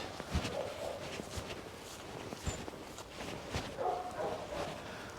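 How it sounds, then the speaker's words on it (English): Dogs bark and yelp faintly from kennels in the distance over outdoor noise, with footsteps crunching nearby on a countryside walk near Pyle, Wales. "the noise of the dogs and the kennels to your right"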